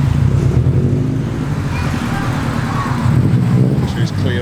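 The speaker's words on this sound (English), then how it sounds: "And got a couple of Subaru Imprezas coming in as well. Again, they make a lovely noise." A couple of Subaru Impreza cars driving in at a cars and coffee meet, a steady loud engine drone throughout with mild wind rumble, no clear talk.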